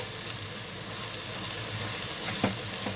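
Tomatoes with salt softening in a pan over medium flame for a dry fish curry, giving a continuous close sizzle with a couple of brief scrape or stir knocks near the end.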